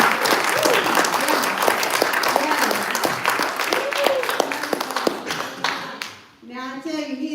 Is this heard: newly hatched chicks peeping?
no